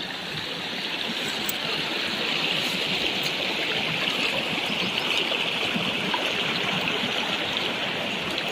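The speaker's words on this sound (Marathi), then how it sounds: "रस्त्यावर पूर्ण पाणीच पाणी वाहत आहे" Steady rushing of floodwater from fields flowing over a road after unseasonal rain in Jalgaon, continuous and fairly loud, like a broad stream running across a surface, with no voices.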